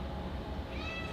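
A house cat gives a short, soft meow close by in a quiet room.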